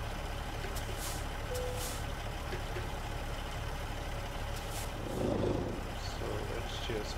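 Heavy semi truck in American Truck Simulator, a Peterbilt 389 glider, maneuvering toward a trailer: steady low engine rumble and drone throughout, with a brief louder surge near the end and faint high tones, no talk.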